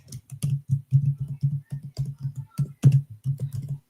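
Quick, steady keystrokes tap on a computer keyboard up close, in uneven bursts with a few heavier key presses.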